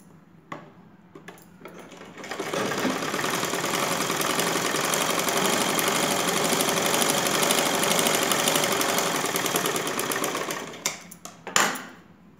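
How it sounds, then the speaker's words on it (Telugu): A sewing machine running a double line of stitching along a blouse piece, starting up and then holding a steady, fast mechanical whirr and clatter for several seconds before slowing and stopping, close and alone. "ఈ పార్ట్కు డబల్ కుట్టేద్దాం"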